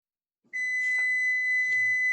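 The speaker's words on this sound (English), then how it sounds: "No, that that was timer on the stove." A kitchen stove timer goes off with a single sustained, high electronic tone that starts abruptly and keeps sounding steadily, with faint low murmurs beneath it.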